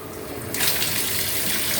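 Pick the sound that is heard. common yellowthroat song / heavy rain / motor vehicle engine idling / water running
water running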